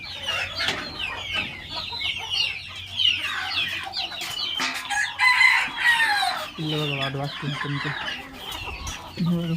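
A flock of chickens clucks continuously at about 6:30 in the morning while a rooster crows, and someone speaks briefly over the birds.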